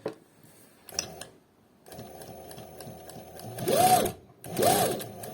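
A Shunfa SF5550 lockstitch sewing machine runs in short bursts, a quiet start followed by a longer steady whirring run and two louder, faster stitching spurts near the end, with brief pauses between them.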